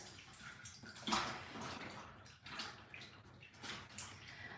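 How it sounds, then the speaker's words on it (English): Fabric scarf being gently rinsed and swished in water, with soft sloshing and trickling splashes, quiet and close. "So I'm just giving it a bit of a rinse."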